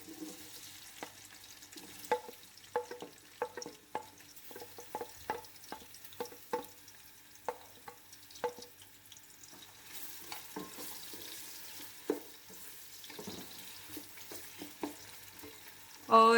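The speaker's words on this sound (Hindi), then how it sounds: "अब ये जब ये गर्म हो जाता है तो हम इसमें जो 4 प्याज मैंने स्लाइस किए थे वो इसमें डाल देंगे।" Sliced onions sizzling in hot mustard oil in a pot for a Punjabi chicken pulao, a quiet frying hiss punctuated by clicks and scraping stirs of a utensil.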